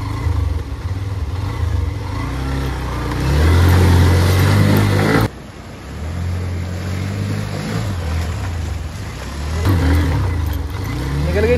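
A Hero Xtreme 125 motorcycle engine revs hard while the bike crosses water off-road, rising to a loud peak, cutting off abruptly, then surging again with splashing under it.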